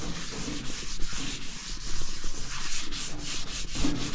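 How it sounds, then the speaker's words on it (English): Shortening worked by hand into a yard-sale cast iron pan, a steady broadband rubbing and scrubbing with repeated strokes, close up and fairly quiet, no voices. "you just take your Crisco and you just sort of rub it on there."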